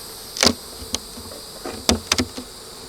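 Honey bees buzzing around an opened beehive in a bee yard, with several short loud buzzy passes of individual bees flying near, separated by quieter background hum.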